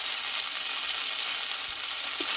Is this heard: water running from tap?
no